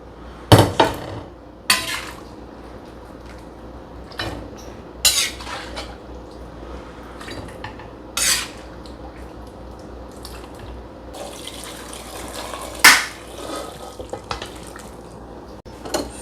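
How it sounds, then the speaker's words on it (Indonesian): Home kitchen cooking sounds: pans, dishes and utensils clank and knock in scattered sharp hits over a background wash of running water, some impacts loud and close. "soalnya aku mau masak."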